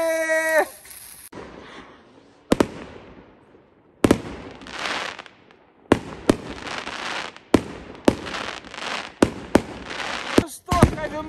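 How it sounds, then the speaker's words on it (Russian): New Year fireworks launch and burst in a rapid series of sharp, loud bangs, each followed by crackling fizz, with a brief whistle at the start and a voice at the end. "Поэтому сейчас будем запускать салют."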